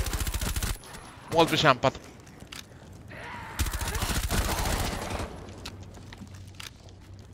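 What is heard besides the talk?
suppressed MP5 gunfire in video game Operation Outbreak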